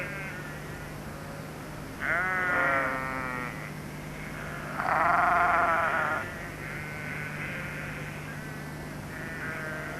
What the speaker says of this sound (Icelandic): Kindurnar fögnuðu þeim.